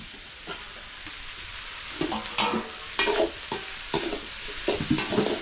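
Sliced onions sizzling in a pan while a spoon stirs them, a steady frying hiss overlaid by repeated scraping strokes that grow busier toward the end, no speech.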